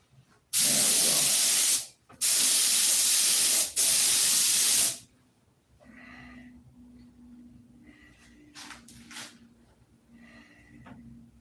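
Three loud, hissing bursts from a spray gun laying down a flow coat of paint, separated by short gaps, then quiet shop background with faint clatter.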